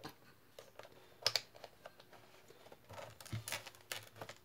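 Small metallic clicks, scrapes and taps as a knife blade pries open the tabs on a picture frame, irregular and close, fairly quiet throughout.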